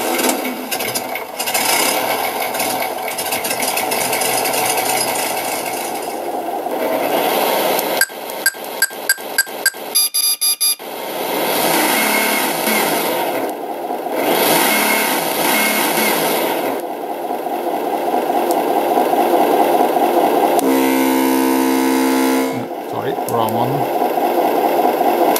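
An ESS One Plus 2017 simulated engine sound unit plays synthetic motor tones through a speaker, shifting between buzzy revving drones, sharp rapid clicks and a brief steady pitched hum, with someone talking at times.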